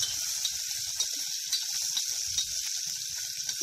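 Potato pieces frying in oil for rajma masala curry, a continuous close sizzle with faint soft clinks from stirring at intervals.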